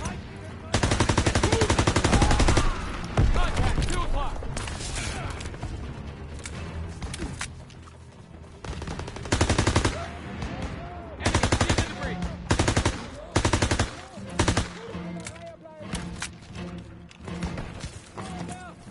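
Rapid machine-gun bursts and rifle shots fill a World War II battle in Call of Duty WWII, with dense volleys in stops and starts and shouting voices mixed in.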